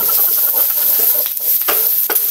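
Loud, close sizzling of pork sautéing with garlic, onion and ginger in a hot pan, a dense hiss broken by a few stirring scrapes.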